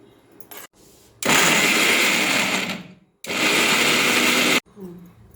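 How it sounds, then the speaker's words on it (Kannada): A mixer grinder whirs as it blends fried tomatoes into chutney, running in two loud sustained bursts of roughly two and one and a half seconds with short pauses and faint handling noise around them. "ಫ್ರೈ ಮಾಡಿರೋ ಟೊಮೊಟೊನ ಮಿಕ್ಸ್ ಮಾಡ್ತಾ ಇದ್ದೀವಿ"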